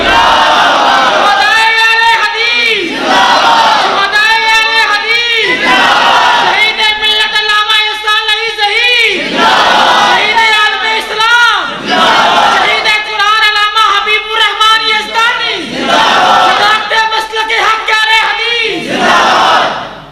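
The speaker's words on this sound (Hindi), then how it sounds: "मारो नारा जरा तकबीर, तकबीर" A large crowd at a religious sermon gathering shouts the takbir slogan in loud, rhythmic unison, with repeated bursts of chanting rising and falling about every two to three seconds, close and dense throughout.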